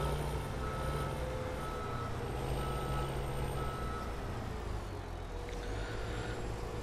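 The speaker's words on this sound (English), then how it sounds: "The sounds I'm using are from the JCB loader" In-game JCB loader from Farming Simulator 17 idles with a steady engine drone, and a reversing beeper repeats at an even rhythm over it; no one speaks.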